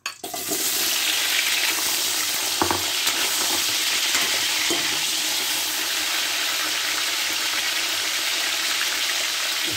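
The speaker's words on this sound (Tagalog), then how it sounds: "i-prito itong ating mga gulay para hindi malamog mga kambalisyos o madurog" Potatoes and mushrooms sizzle loudly and steadily in hot oil, a continuous crackling hiss with a few faint clinks, and no voices.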